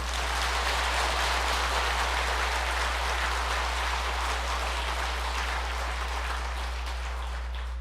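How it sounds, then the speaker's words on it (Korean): An audience at a Buddhist bodhisattva precepts ceremony claps together for the monks, a dense, even wash of applause that holds steady and loud, with a low electrical hum beneath. "정사 스님들한테 박수 한번 쳐주세요"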